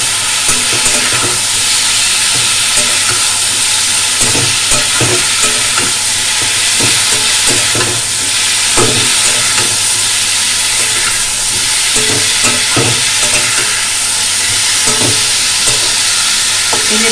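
Spices for chhanar dalna sizzling steadily in hot oil, a loud continuous frying hiss with occasional stirring scrapes and crackles, no voices.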